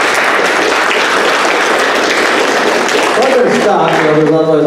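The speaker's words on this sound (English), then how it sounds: "So give them a big round of applause." An audience applauds loudly and continuously, dense clapping throughout, with a few voices and a brief tonal sound near the end.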